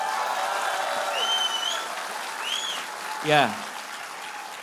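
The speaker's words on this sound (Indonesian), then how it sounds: "Kita kasih tepuk tangan buat mereka semua." Crowd applause at a political campaign event in Pontianak: steady clapping that fills the space, with a few rising whistles over it and a brief voice calling out near the end.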